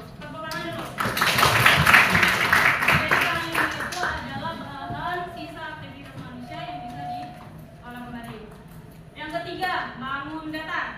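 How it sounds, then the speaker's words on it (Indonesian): Schoolchildren in a classroom clap together in a loud burst of applause lasting a few seconds, then fading as a teacher's voice and children's voices continue talking. "Tepuk tangan dulu."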